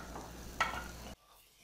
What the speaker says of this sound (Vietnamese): Giờ mình sẽ cho tiếp cái tỏi và hành tím nó băm nhuyễn vào đây.